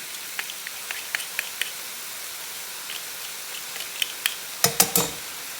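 Garlic sizzles quietly in a pan for pasta sauce, a soft, even hiss dotted with small crackles, ending in a brief burst of sharper pops near the end.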